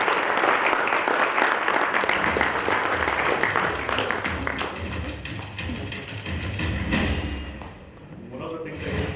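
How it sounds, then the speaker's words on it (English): Audience applause at a South-India family business summit in 2019, a loud wash of many hands clapping that gradually thins and fades, with talking and a few thumps and knocks emerging as it dies away. "Let's give him a big applause."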